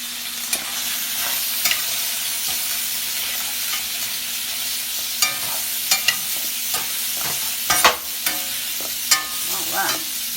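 Creamy grits are worked in a pot with the back of a spoon, giving soft scraping and thick bubbling under a low hiss, with occasional clicks of the utensil against the pot.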